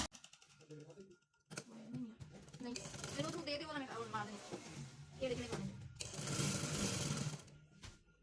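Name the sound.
sewing machine stitching lace onto trouser fabric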